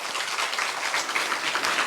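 Audience applause at an indoor gathering of guests, a steady, dense patter of many hands clapping together throughout, fairly close and even in loudness.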